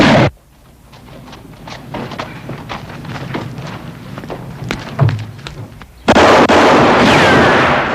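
Gunshots in a 1971 western movie shootout, a series of sharp, fairly faint cracks and thumps spread across several seconds, ending in a loud, sustained roar of noise.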